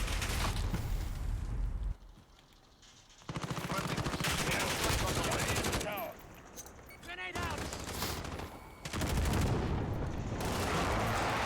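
M4 gunfire in the online shooter Rust comes as loud bursts of rapid automatic shots separated by brief quiet gaps, with a voice talking over parts of it.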